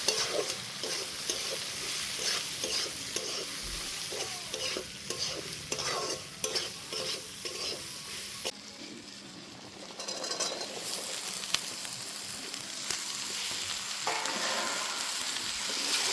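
Spices such as turmeric and Kashmiri chili powder are stirred into lentils for sabudana khichuri in a sizzling pan, with repeated scraping strokes of a spoon over a steady frying hiss, close and fairly quiet.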